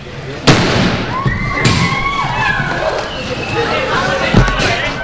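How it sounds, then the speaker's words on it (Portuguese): Several sharp gunshots ring out at irregular intervals, loud and close, with people talking in between. "Foi possível ouvir barulho de tiro."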